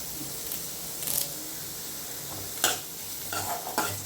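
Onions and a few curry leaves fry in a pan with a soft, steady sizzle, while occasional spoon stirs and scrapes stand out from it at close range.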